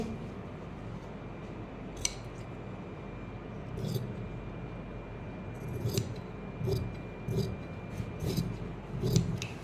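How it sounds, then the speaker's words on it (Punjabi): Scissors snipping through heavy palazzo fabric, a series of short crisp cuts that grow more frequent toward the end, close and fairly quiet with no talking. "ਇਹ ਇਸ ਤਰ੍ਹਾਂ ਹੁਣ ਆਪਾਂ ਇਧਰੋਂ ਕੱਟ ਲਾਂਗੇ ਠੀਕ ਹੈ"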